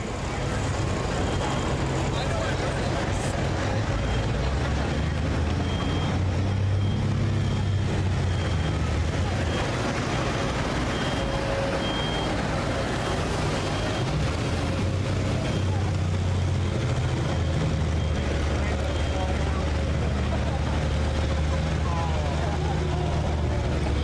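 Limitless, a pulling truck from Kentucky, roars continuously at a county fair truck pull competition, loud and unbroken throughout, with an announcer's voice faintly mixed in.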